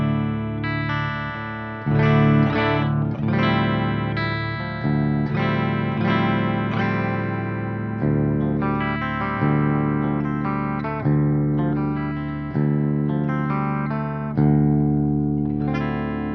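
Clean electric guitar through the clean channel of a Peavey Valveking 100 tube amp in normal class A/B mode via the high gain input, playing a steady run of chords and single notes with crisp attacks, loud and close, no voices.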